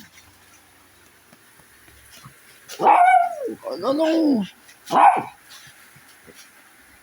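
A small dog barks three times close by, two short sharp barks followed by a longer one and a final yip, in an otherwise quiet room with a brief voice.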